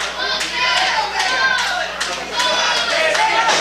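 A crowd at an independent wrestling event claps rhythmically and cheers in a loud, steady wash of hand claps and voices. A commentator talks over the noise.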